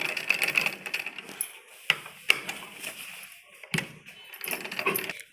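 A sewing machine stitches seams on a men's kurta in uneven bursts, with clicks and taps from handling the cloth between runs, close and moderately loud.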